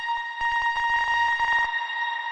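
A finger-drummed beat run through an Ableton randomizer device glitches into rapid stuttering hits over a sustained ringing tone, the repeats speeding up before cutting out to the lingering tone.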